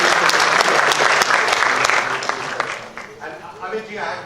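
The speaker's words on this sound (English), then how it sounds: "So another round of applause for her." An audience breaks into a round of applause at an event endorsing the Swachh Bharat cleanliness campaign; loud dense clapping that thins and tapers off in the last second.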